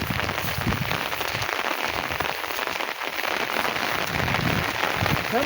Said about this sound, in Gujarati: હજી બંધ થવાનું નામ નથી લેતો વરસાદ